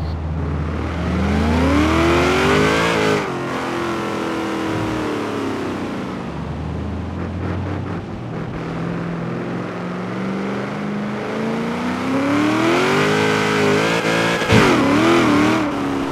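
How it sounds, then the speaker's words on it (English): Supercharger whine from a blown 1000+ hp Holden Torana A9X in Forza Horizon 3, a loud engine note rising in pitch under acceleration, falling back between gears and climbing again near the end. "Love that supercharger whine."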